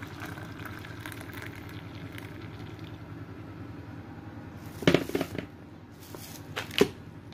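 Water heating toward a boil for coffee in a hotel room, a faint, steady bubbling hiss with a few brief clattering knocks near the end.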